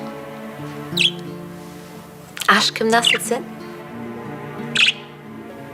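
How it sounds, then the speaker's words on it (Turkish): Pet budgerigars chirp in a few short, sharp, high tweets spread through the clip, with someone speaking over a steady indoor background hum. "Muhabbet kuşlarım."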